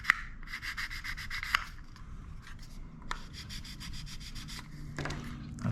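Quick back-and-forth scratchy rasping of sandpaper on a small hard plastic part of a Matchbox Ju-188 model kit, close and steady, with occasional taps and pauses.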